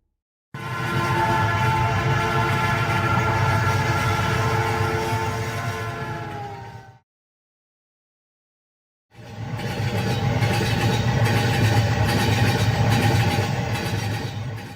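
A passenger train runs steadily along the Bongaon–Sealdah line, a loud, continuous rumble and clatter that drops out abruptly for a couple of seconds before resuming at full strength, with no voices.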